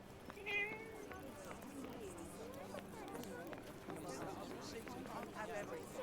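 A grey cat in the Forspoken video game meows once near the start, above a steady bed of game ambience and running footsteps, with a voice talking over much of it.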